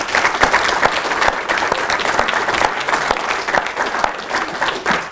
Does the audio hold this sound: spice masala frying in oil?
no